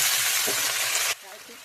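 Greens going into hot oil with dried chillies and peanuts, giving a loud, dense sizzle that cuts off abruptly partway through, followed by quieter frying.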